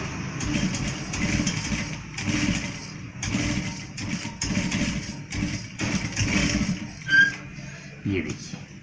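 An electric sewing machine runs in short, close mechanical bursts while stitching the double-bone back pocket of men's trousers, pausing between runs as someone talks over it.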